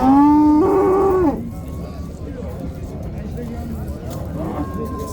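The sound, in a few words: cow mooing at a cattle market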